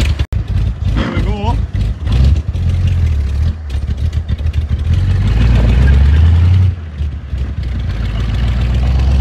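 A 72-year-old vintage Allard car pulls away, its engine idling then building to a loud, throaty rev close by, with people talking over the start.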